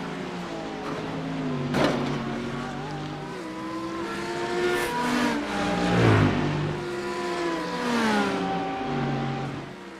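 GT3 race cars in a racing video game, including a Porsche, with engines revving hard through rising and falling gear pitches and several cars overlapping, loud and continuous, with commentary faintly audible underneath.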